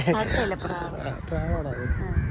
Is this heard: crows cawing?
yes